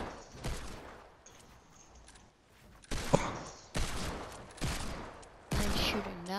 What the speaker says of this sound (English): I'm shooting now, bro. Oh, you have five deagles.